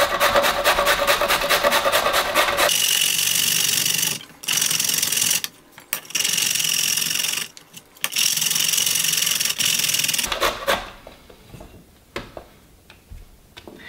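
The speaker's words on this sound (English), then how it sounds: "I'm gonna cheat. Get your box grater out." Vegetables being grated on a box grater for a cortido ferment make a loud, rapid scraping rasp in several bursts separated by short pauses, then trail off into quieter, scattered clicks and scrapes.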